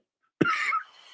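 A single short, sharp cough bursts out close to the microphone, followed by a brief breathy tail and then silence.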